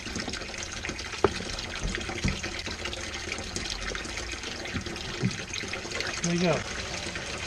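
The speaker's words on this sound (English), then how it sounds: "Well, I guess we better put some water in there first." Water runs from a hose into a boat hull during bilge pump repair work, a steady wash of flowing liquid throughout with a few knocks and short speech.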